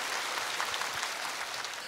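An audience at a televised outdoor singing contest in Bucheon, South Korea, applauds in a brief, dense patter of clapping, steady and moderately loud throughout with no speech.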